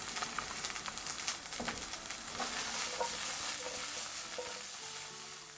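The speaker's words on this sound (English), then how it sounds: "To brown this appropriately, I'm going to turn the heat up just a little bit." Beef chunks brown for Hungarian goulash in a pot over raised heat, giving a steady, dense sizzle and crackle with occasional stirring scrapes, close and fairly quiet, with no talking.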